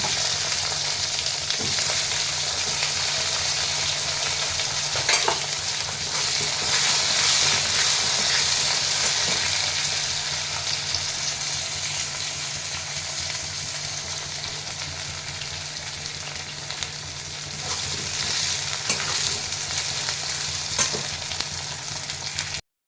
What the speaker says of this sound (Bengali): দিয়ে আমি যে আলুগুলো কেটেছিলাম আলুগুলো ভেজে নেব।